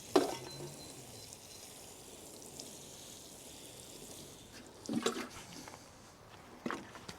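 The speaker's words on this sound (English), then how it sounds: "the ground's quite dry at the moment, so I'm giving it a bit of a pre-water" Water poured onto dry garden bed soil before planting spring onions, a soft steady hiss and patter of liquid with brief louder splashy bursts, heard close and alone.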